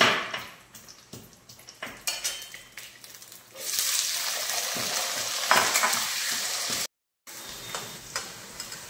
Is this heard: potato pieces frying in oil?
yes